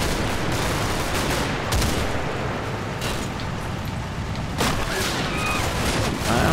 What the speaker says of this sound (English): It looks more like rifle fire than any kind of automatic weapon.